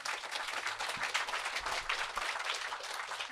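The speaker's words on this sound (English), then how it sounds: "Round of applause there for Sheffield" Steady applause from an audience at a Green Party hustings event, a dense sustained wash of many hands clapping at moderate distance, holding an even level throughout with no voices over it.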